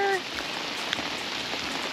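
Heavy rain pounds steadily on surfaces during a Florida storm on a bass fishing outing, a dense even hiss with no break and a brief faint tone at the very start.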